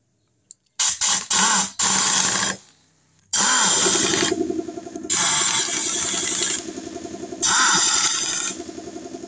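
Impact wrench fastening a Suzuki Shogun SP motorcycle clutch housing, loud mechanical buzzing bursts: several short rattling pulses, a brief pause, then long sustained runs broken by short gaps, close and alone.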